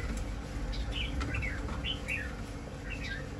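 A hwamei songbird sings short, bright chirping phrases repeatedly over a steady low background hum, moderately close but fairly faint.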